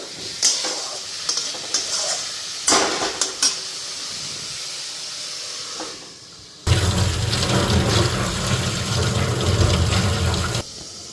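Boal fish frying in a pan of hot oil, crackling and hissing softly at first with occasional stirring, then a loud, dense, continuous sizzle after more goes into the oil.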